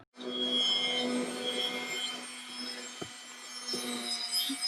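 A Porsche 997/987 key being ground down with a rotary tool attachment, a continuous high-pitched whining grind held close for several seconds with small bumps as pressure shifts.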